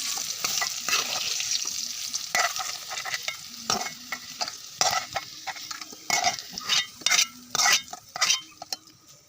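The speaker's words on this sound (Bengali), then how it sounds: "আমার কাঁঠালের বিচিটি ভাজা হয়ে গেছে" Jackfruit seeds and potatoes frying in a pan on a gas stove are stirred with a utensil, giving a steady sizzle broken by repeated sharp scrapes and clinks of metal on the pan, close and fairly loud with no talk.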